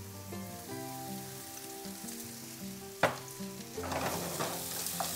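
Sizzling and crackling of kofta frying in oil in a pan, soft hiss growing busier toward the end, with a sharp clack midway and steady background hum.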